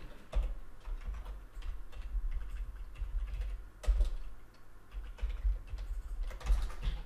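Keys tapping on a computer keyboard while code is typed during a C# and ASP.NET Core workshop, a fairly quiet, irregular run of clicks against low room rumble, with no talking.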